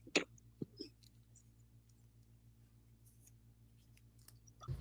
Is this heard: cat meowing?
no